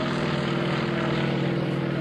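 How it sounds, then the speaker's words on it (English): A Russian-built all-metal Yak-55 aerobatic plane with a supercharged 360-horsepower nine-cylinder M14P radial engine and three-blade propeller drones steadily overhead at an airshow, a continuous loud engine roar with no speech. "Going to bring this Yak-55 in. This is an all-metal airplane,"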